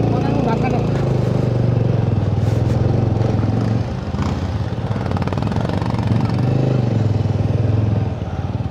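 Motorcycles are being parked on arrival at Khangsar in Manang after off-road riding, their engines running loud and close with a rough, steady idle and revving, while people talk over the noise.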